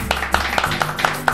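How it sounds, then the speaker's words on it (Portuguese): A small group claps hands in a steady, even rhythm in a radio studio, about six sharp claps across a short stretch with faint voices underneath. "vamos bater palmas aqui."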